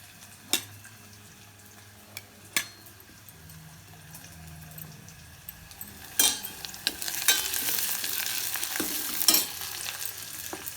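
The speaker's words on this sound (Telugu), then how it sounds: "టమాటా వేసుకున్నామండి కొంచెం పచ్చివాసం పోయింది" Tomatoes fry in a pan with curry leaves, chili powder, salt and spices while pepper rasam is being made. A steady soft sizzle runs throughout, with occasional sharp clicks of a spoon stirring against the pan and no voices.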